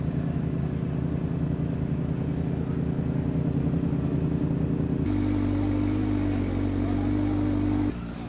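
Sidecar racing motorcycles at the Isle of Man TT run with a steady, loud engine drone throughout, holding a fairly constant pitch before shifting to a deeper, heavier tone partway through, with no talk.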